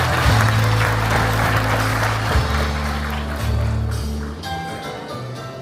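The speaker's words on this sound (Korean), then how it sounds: "큰 박수 부탁드립니다." Loud audience applause at a county welcome ceremony in Buyeo for a provincial governor's visit, broad clapping washing over brass-like ceremonial music with strong sustained low notes, fading slightly toward the end.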